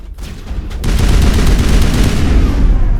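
Rapid gunfire from chemical rounds in the video game Mass Effect, a loud, dense stream of shots starting after a brief lead-in and continuing without pause, up close and without talk.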